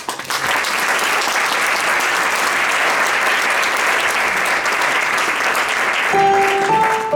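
Loud, dense audience applause for musicians at a concert, a steady wall of clapping hands lasting several seconds, with a few sustained instrument notes entering near the end.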